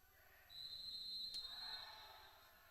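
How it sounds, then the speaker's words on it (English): A referee's whistle blows once at an indoor MASL soccer match, a single sustained shrill tone of about a second, moderately faint over a low arena murmur. "the referees blow the whistle"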